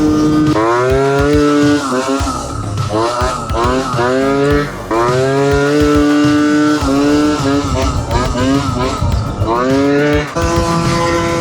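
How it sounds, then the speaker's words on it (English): A small scooter engine converted to pre-mix fuel revs hard and high, whining up and down in repeated surges, loud and close throughout. "Oh, it's revving so high."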